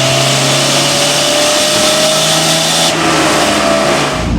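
A 43-year-old classic car engine revs hard on a dyno, a loud continuous roar with a steady droning pitch that holds throughout and drops away sharply at the very end, with no voices.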